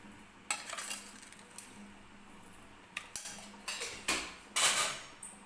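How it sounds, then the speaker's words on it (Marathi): A small spoon scrapes and taps against a bowl while three spoonfuls of sugar go into dhokla batter, giving a few sharp, close metallic clinks and brief scraping bursts with quiet pauses between them. "3 चमचे साखर टाकतीये."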